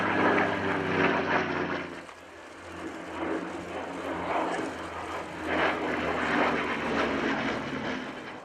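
A Messerschmitt fighter's piston engine drones overhead at a Battle of Britain anniversary airshow at RAF Fairford, a steady, moderately distant roar that swells and fades as it passes.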